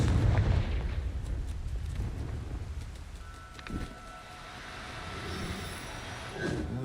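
Confringo spell explosion in a video game: a deep, rumbling blast that opens loud, then a sustained low roar with a brief sharp crack midway, followed by a lingering hum and ringing tone.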